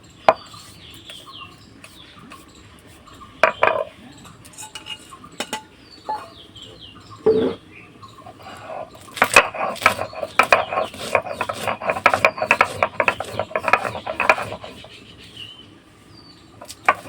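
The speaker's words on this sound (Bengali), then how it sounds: "এখানে যে মশলাটা আমি ভেজে নিয়েছিলাম সেটা গুঁড়ো করে নেবো একটু।" Fried spices ground into powder by hand, with irregular rubbing, grinding and knocking strokes that grow busier and denser in the second half, close and fairly loud, with faint bird calls in the background.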